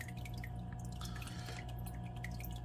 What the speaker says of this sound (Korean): 이 정도 물소리가 나면은 침실에 있어도 자장가 소리처럼 아주 편하게 들릴 겁니다